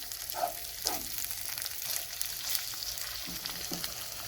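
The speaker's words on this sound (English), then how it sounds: "take some fire roasted tomatoes and just start mixing in there" Fire-roasted tomatoes are being stirred into a pan with salmon, a soft steady sizzle of frying with a few faint scrapes of the utensil, fairly quiet and close, no voices.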